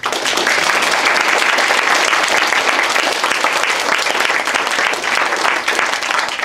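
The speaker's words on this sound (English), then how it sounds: "if you'd like to give Russ a round of applause" A sustained round of applause from an audience after a talk on a decade in the wilderness, steady and loud, with dense clapping from many hands throughout and no voices above it.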